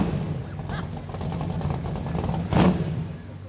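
An RCMP dragster engine revs at a small-town jamboree parade, a steady rumbling idle with one brief louder surge of revving amid outdoor crowd noise.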